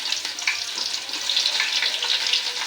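Chopped garlic sizzling in hot oil with dried chillies during cooking of a Bengali gourd-greens, bean and potato stir-fry, a continuous dense hiss at close range with no voices.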